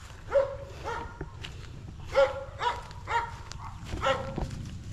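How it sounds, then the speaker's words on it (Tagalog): A dog barks several times at a distance, in scattered single barks over a low outdoor background hum. "Tapos may aso dito guys oh."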